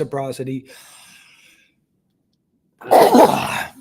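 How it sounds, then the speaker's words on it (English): A voice speaks briefly and trails off into a quiet pause, then one sudden, forceful sneeze bursts out close by. "I might have a sneeze here."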